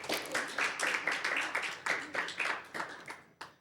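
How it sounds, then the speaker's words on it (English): An audience at an occupational hygiene symposium claps for the speakers. Steady, moderately close applause from a modest crowd fades out over a few seconds, with a final single clap at the end. "A round of applause for our speakers again."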